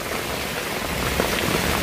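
Heavy rain pours down steadily and loudly, a dense close hiss of drops drumming on surfaces during a tropical downpour, with no voices.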